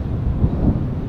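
Thunder rumbles low and heavy over an empty beach at Anapa during a downpour, a brief loud roll mixed with wind buffeting the microphone.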